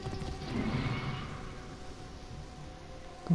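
Horse moving through a video game as Bayek, with a steady low rumble of hooves and movement at moderate level, no voices.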